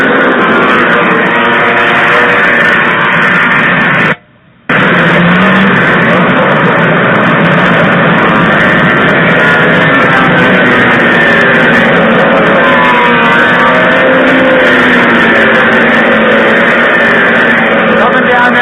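Nine old Polaris snowmobiles launch in a race, a loud, continuous roar of many engines revving and pulling away under an excited commentator's voice, with a brief dropout early on before the engine noise resumes.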